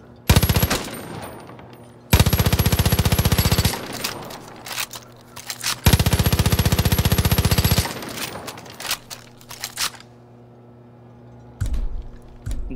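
Automatic weapon fire with incendiary rounds in Far Cry New Dawn comes in two long loud sustained bursts, each about two seconds, framed by shorter rattles and quieter clicks and mechanical handling between.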